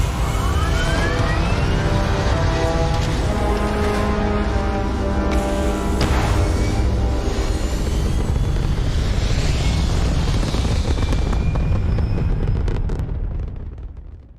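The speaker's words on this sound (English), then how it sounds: "Always a satisfying moment to return to your ship. All thrusters firing." Spaceship thrusters fire in the game Starfield, making a loud, sustained roaring rumble with rising whine-like tones. The sound holds steady for about fourteen seconds and then fades out at the end, with no voices.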